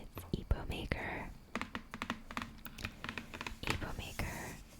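Keys clack in uneven bursts while someone types on an Epomaker H99 triple mode gasket mounted mechanical keyboard, close and crisp, with soft whispered talk running underneath.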